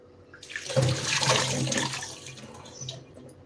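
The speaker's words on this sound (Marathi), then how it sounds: "आता हे गाजर काकडी जे केलेलं आहे तर मी धुवून घेते पटकन" Carrots and cucumbers rinsed under running tap water in a kitchen sink, a splashing rush that swells then eases over a few seconds, close and moderately loud.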